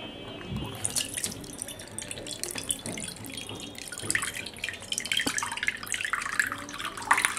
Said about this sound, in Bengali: এবার আমি এটাকে ছেঁকে নিচ্ছি একটা ছাঁকনির সাহায্যে।